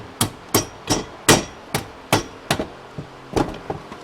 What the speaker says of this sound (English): Got a mallet to beat that old one out.